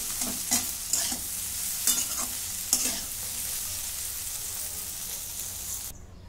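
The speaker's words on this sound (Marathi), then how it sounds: "भेंडी चांगली मऊ अशी झालेली आहे. आता मी काढून घेते." Soft cooked okra stirred in a hot pan and scooped out, giving a steady frying sizzle punctuated by several sharp scraping strokes of the spatula, then quieter sizzling.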